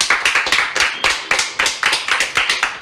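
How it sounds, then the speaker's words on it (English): A small group gives a round of applause in a room, about a dozen sharp, evenly paced bursts of claps rising and dropping over a few seconds, close and fairly loud. "Everybody round of applause."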